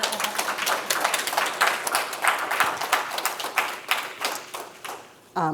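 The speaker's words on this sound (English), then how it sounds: "Please give her a round of applause." A room full of people applauds an illustrator at a book discussion event, with dense, lively clapping that swells and holds, then tapers off near the end.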